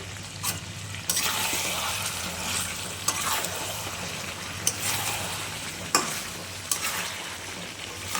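Boiled meat cooks with garam masala and black pepper powder in a pan. A soft, steady sizzle is broken every second or so by sharp spoon scrapes against the pan, and no one speaks.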